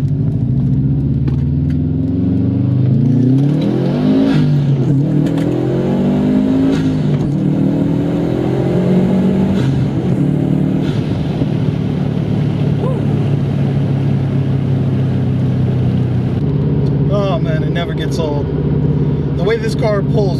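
A Subaru STI's engine with a Stage 1 Cobb tune roars hard and close, its pitch climbing repeatedly as it accelerates through the gears, then settling into a steady drone.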